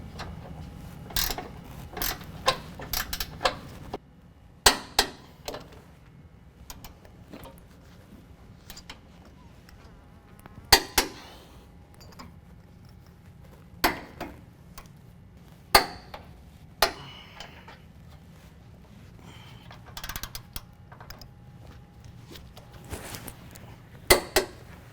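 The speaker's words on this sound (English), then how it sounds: "So now we're going to tighten down all of the hardware that's holding on our differential." A ratchet clicks in short bursts while bolts holding a differential on a 2015-17 Ford F-150 4WD are tightened, with sharp metallic knocks scattered between quiet pauses over a low background hum.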